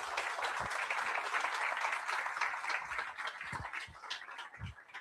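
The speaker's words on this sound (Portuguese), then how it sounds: "les pido que un aplauso para nuestro conferencista" A lecture audience applauds with dense, steady clapping that tapers slightly toward the end, a few louder individual claps standing out.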